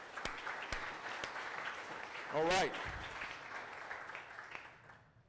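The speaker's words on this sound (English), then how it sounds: "give yourselves a round of applause" Round of applause from an audience at a case competition results ceremony, steady mid-level clapping throughout, with someone speaking briefly over it and a short burst of louder voice in the middle.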